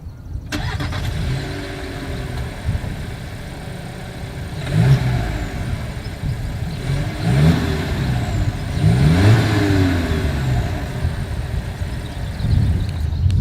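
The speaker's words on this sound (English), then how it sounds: "here is that exhaust clip." Close exhaust of a 2022 VW Jetta rumbling at idle, with several rising revs as the engine is blipped repeatedly, each swelling then settling back to a steady drone.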